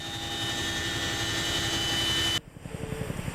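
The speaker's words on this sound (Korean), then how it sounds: "시끄러운 엔진음이 600m 상공에 머물자" Loud, steady drone of an aircraft engine holding 600 m overhead during military special forces parachute training, continuous and close before cutting off abruptly near the end.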